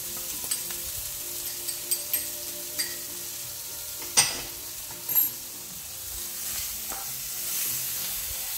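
Onions and garlic fry in a pan beside bacon for Puerto Rican mofongo, a soft, quiet sizzle broken by a few light utensil clicks and scrapes, with a couple of louder stirring knocks near the middle.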